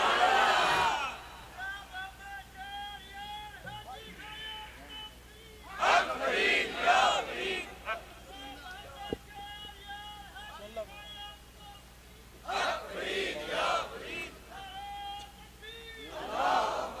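A crowd at a religious gathering chants slogans in reply to a preacher's Urdu sermon on Syeda Fatima, voices swelling in three loud communal bursts separated by quieter stretches of speech.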